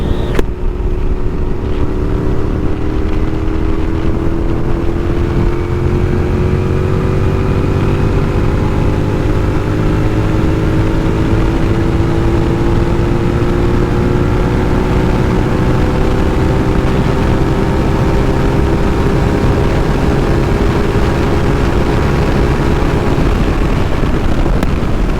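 A 2006 Suzuki SV650 motorcycle with a worn chain and sprockets and no performance mods accelerates hard at speed, a loud steady engine drone rising slowly in pitch under heavy wind roar for the whole stretch.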